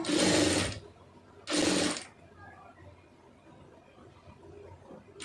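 A sewing machine stitches a folded puff sleeve in two short loud bursts, the second following a brief pause, then falls quiet with faint room noise.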